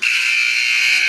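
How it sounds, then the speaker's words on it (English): A loud, steady electronic buzzer blares once for about a second at a college men's basketball game, CCBC Dundalk vs. Potomac State, marking the end of a timeout. It plays alone, with no talk over it. "The buzzer sounds."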